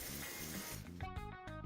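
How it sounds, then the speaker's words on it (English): Hairspray hisses in a short, close, continuous burst onto hair while it is styled into a pompadour, then cuts off into faint clicking and rustling. "coat it with spray"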